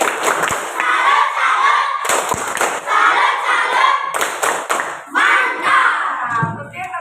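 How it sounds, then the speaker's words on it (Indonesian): A group performs a rhythmic tepuk salut clap routine in a school classroom activity, bursts of sharp claps and thumps in patterned groups, loud and close, with brief pauses between phrases. "coba kita tepuk salut dulu biar lebih semangat lagi"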